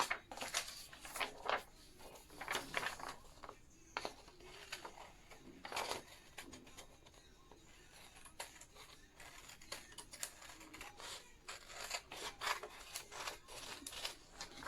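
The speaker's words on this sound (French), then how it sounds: "on va alors jouer à découper avec un ciseau. Donc c'est parti, il faut découper tous les cercles." Scissors cutting circles out of coloured paper, quiet repeated snips and rustling paper in irregular bursts, close but faint, with no talking.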